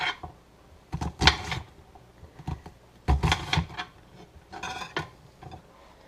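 A knife chops an onion on a kitchen board while a breakfast meal is prepared. There are three or four short clusters of quick, close cuts separated by quiet pauses.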